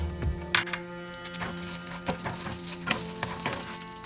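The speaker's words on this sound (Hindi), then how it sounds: "अभी मैं इसमें जो सीजनिंग सीड्स है ये भी ऐड कर रही हूँ।" Seasoning seeds sizzling in hot oil in a pan over low flame for poha chivda, a steady close crackle and fry with occasional stirring scrapes, no talk.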